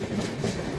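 Passenger train rolling along rails on a journey out of Jaipur, a steady close rumble with faint clickety-clack under it, no talk.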